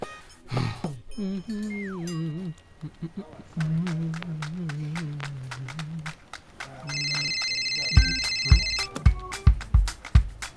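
A telephone rings during a call to book a room, a brief electronic ring tone sounding over background music with sharp percussive hits.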